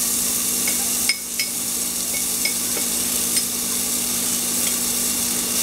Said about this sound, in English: Now it's time to add ginger, garlic and chili.